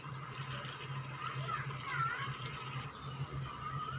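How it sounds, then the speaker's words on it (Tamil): Water runs steadily into a pot of rice, about ten tumblers for five of rice, while cooking kuska in a home kitchen. It makes a continuous, fairly soft rushing pour with no break. "அதுக்கு வந்து பத்து டம்ளர் வந்து தண்ணி வந்து சேர்த்துக்கிறேன்"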